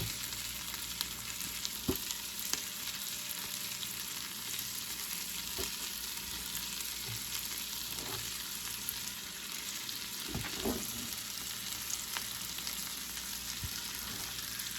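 Onions fry and caramelize in a pan for French onion soup chicken, giving a continuous, even sizzle with a few faint clicks of a utensil, close by and free of speech.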